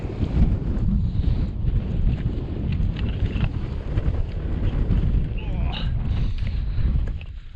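Strong wind buffets the microphone on the summit of Beinn Chabhair, a Scottish Munro, a loud continuous rumbling roar with gusty swells, and a voice murmurs faintly beneath it.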